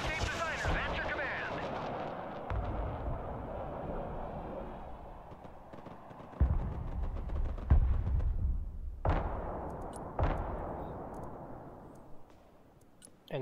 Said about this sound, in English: I got artillery firing over here as well.